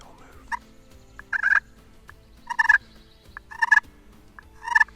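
A wild turkey gobbler gobbles in North Carolina woods during a 2024 spring hunt: four loud, close gobbles spaced about a second apart, each preceded by short clucks, with no talking.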